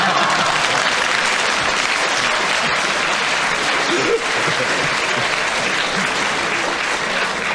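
A studio audience at a radio panel game applauds, thick continuous clapping that stays loud and steady from start to finish.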